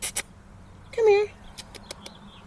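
A cat gives a single short, clear meow close by outdoors, preceded and followed by faint scattered taps and ticks.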